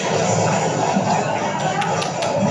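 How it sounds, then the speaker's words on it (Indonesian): Classroom applause with scattered clapping and murmuring under a dense, continuous crowd wash, steady and moderately loud throughout. "Wah, tepuk tangan"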